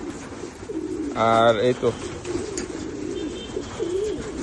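Racing pigeons perched on a roof coo in a short, close, throaty burst over a bed of rainy outdoor noise, with someone speaking briefly.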